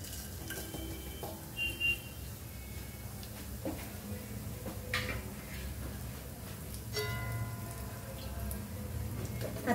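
Ingredients sauté in a hot pan with a soft, continuous sizzle. Light clinks and taps from stirring rise above it now and then. The whole sound stays fairly quiet and close.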